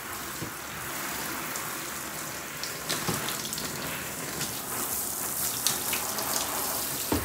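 A gentle shower stream runs over a poodle during a bath, making a continuous close splashing hiss with slight spatter that grows a little louder partway through.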